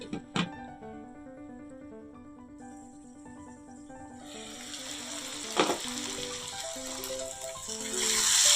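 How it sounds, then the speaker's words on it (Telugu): Brinjal and tomato frying in a pan for a village-style curry make a sizzle that swells from faint to strong, with a sharp clatter early on and another midway, all under steady background music. "పచ్చిదనం పోయేంత వరకు వేయించుకుందాం."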